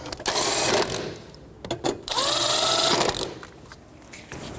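A ratchet with a 10 millimeter socket snugs down the bolts of a cable bracket during a starter replacement on a 2006-2012 Toyota RAV4, giving loud, close bursts of rapid mechanical clicking separated by short pauses.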